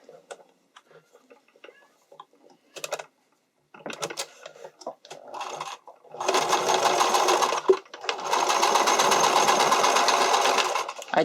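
A sewing machine stitches spandex for a strappy underwire bikini top. A few scattered ticks and handling clicks come first, then two sustained bursts of rapid, buzzing machine stitching, close and clear.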